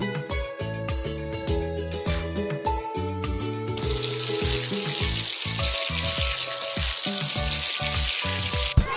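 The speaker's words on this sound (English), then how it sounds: "Now rinse the shampoo off." Cartoon water rinsing shampoo out of hair, a steady running-water hiss under bouncy background music that keeps playing, no voices.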